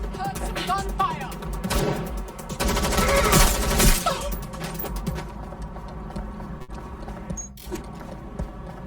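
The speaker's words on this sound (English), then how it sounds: "Heard some gunfire." Bursts of gunfire crackle through a firefight in the video game Watch Dogs Legion, rapid overlapping shots mixed with game sound effects over several seconds, loud and dense before tapering off.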